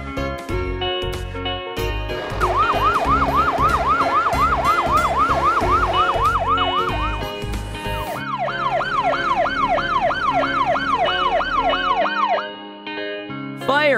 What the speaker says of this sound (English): Ladder truck.